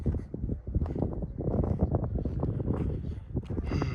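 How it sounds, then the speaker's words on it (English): Gusty wind buffets the microphone outdoors near a collection of old big-block Chevrolet cars, coming as loud, uneven low rumbling bursts that rise and fall throughout. "It's getting kind of windy now."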